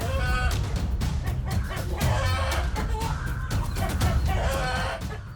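A mother hen clucks and squawks loudly while fighting off a crow to protect her young, her harsh calls continuous and agitated amid a busy, scuffling struggle.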